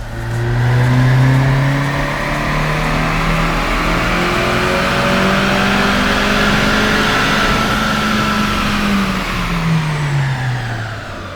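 A 2025 Honda Civic Si engine revs steadily on a dyno during a tuning pull, loud and close, its pitch rising smoothly and holding high for several seconds before easing off, with no talk over it.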